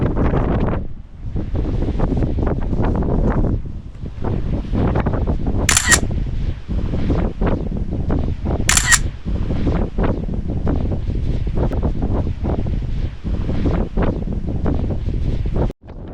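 Strong gusting wind roars across a Seoraksan mountain ridge near Ulsanbawi, buffeting the microphone in loud, continuous low rumbling bursts with two brief sharp clicks partway through.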